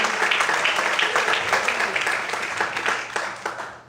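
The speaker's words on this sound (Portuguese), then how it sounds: "Você pode aplaudir ao Senhor nessa noite?" A church congregation claps together at an evening service, a full round of applause that starts strong, then thins into scattered claps as it fades out.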